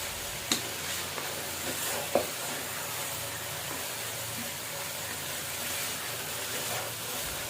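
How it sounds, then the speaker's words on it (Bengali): A low, steady sizzle of rice frying in a pan for biryani, with a couple of sharp scraping knocks from stirring near the start. "চালগুলো ভাজার সময় অবশ্যই লক্ষ্য রাখবেন যাতে তলানিতে চালগুলো লেগে না যায়"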